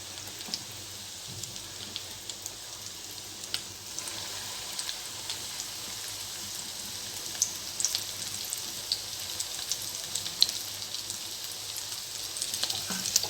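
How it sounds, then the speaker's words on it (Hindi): Chicken for broast, without a breadcrumb coating, frying in oil on low heat: a steady, even crackle and hiss with scattered tiny pops, continuous and fairly soft, heard close with no voices. "सेकंड जो हमने ब्रेड क्रम्स के बगैर बनाई थी उसको हम फ्राई करेंगे"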